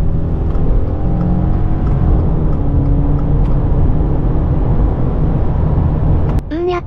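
Subaru Crosstrek driven flat out on the Shuto Expressway, a steady loud engine drone with road and wind roar, rising tonal whine as it accelerates, and a brief clunk near the end.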